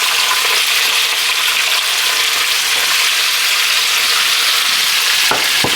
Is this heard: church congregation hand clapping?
no